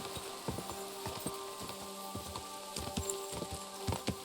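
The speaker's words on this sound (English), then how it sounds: "Yeah, hear my horse gallop." Horse hooves galloping in Kingdom Come: Deliverance II, a steady clip-clop rhythm of repeated soft thuds, moderately near and fairly quiet, with no talking over it.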